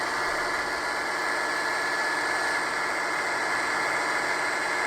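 Diesel engine sound from a Rapido Metra F40PHM model locomotive running LokSound v5, a steady idle-like rumble that holds at the same level the whole time, with no talking.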